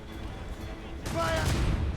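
A broadside of ship cannons in Assassin's Creed Rogue booms out halfway through, a dense rumbling volley that swells and lingers beneath shouting crew voices.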